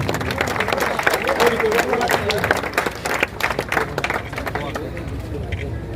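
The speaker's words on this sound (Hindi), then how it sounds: "आप तालियां बजा सकते हैं, कोई पाबंदी नहीं।" A crowd at an outdoor village welcome ceremony for a returning wrestling medalist claps loudly and continuously, with murmuring voices and general hubbub mixed in, the clapping staying dense for several seconds before thinning slightly toward the end.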